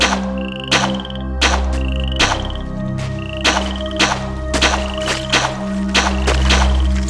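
Repeated frog croaks from the King's Quest 8 swamp level, sharp regular pulses about every half second to second over a steady low ambient drone, loud and close.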